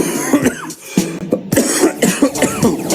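Repeated close coughs and throat-clearing from a person ill with suspected coronavirus, in a steady series, loud and raspy, with no speech.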